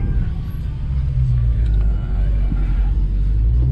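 A 1000 horsepower Dodge Hellcat at full throttle gives a loud, continuous low-end rumble of engine and road noise that holds steady throughout.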